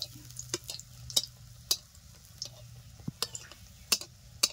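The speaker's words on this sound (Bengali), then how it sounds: "দেখো তেল গরম হয়ে গেছে, এবার বেগুনিগুলো ছেড়ে দিচ্ছি।" Beguni, eggplant fritters, frying in hot oil: a steady low sizzle broken by sharp, scattered crackles and pops, close and fairly quiet, with no talking.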